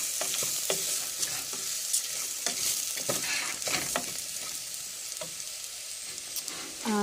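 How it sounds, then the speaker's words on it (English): Rice being stirred through hot oil and aromatics in a pan for Spanish rice, steady sizzle with repeated scraping strokes of the spoon, close and clear, no talking. "I like to stir the rice around in the aromatics and the oil a little bit"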